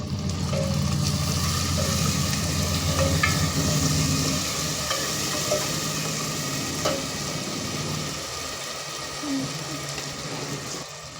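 Ground masala with fried onion frying in oil with mutton, a continuous loud sizzle with occasional stirring scrapes, steady throughout with faint background noise.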